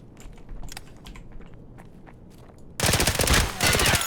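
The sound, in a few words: pistol gunfire in a video game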